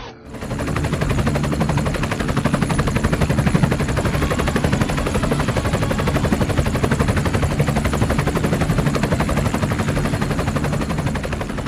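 Helicopter rotor thumping steadily as gunfire rattles alongside it in a movie battle scene, loud and continuous throughout with no pauses.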